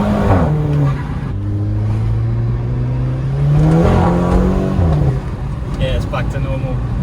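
A 350 bhp VW Golf GTI on the road, its engine note climbing through gears as it accelerates, a strong rising drone close by with tyre and road rumble underneath, and a voice talking briefly.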